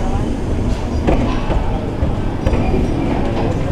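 The Ajmer Express pulls into Ajmer Junction with close, rumbling train noise, periodic clanks and rattles from the carriages, while a person talks over it.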